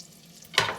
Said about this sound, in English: You might be able to hear that butter sizzling already.